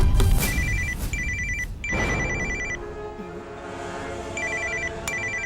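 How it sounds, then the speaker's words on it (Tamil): A telephone rings in a home in a Tamil TV serial, sounding in repeated short electronic bursts of trilling tones. "பாத்தியாமா மணி அடிக்குது."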